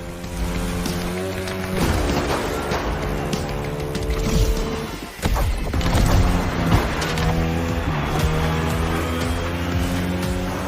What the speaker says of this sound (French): Là, t'es aux commandes d'une Ducati Panigale